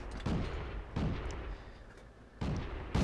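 Booming tank cannon shots in the video game World of Tanks, where a BT-2 light tank is played. Four sharp, heavy blasts come at uneven intervals, each followed by a short rumbling decay, with no talking.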